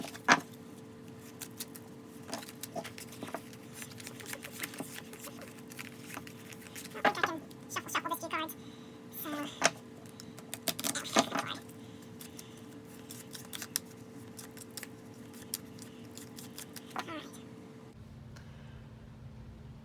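Quiet, rapid papery riffling and light slaps of tarot cards being shuffled, steady for most of the clip over faint background hum, then stopping near the end.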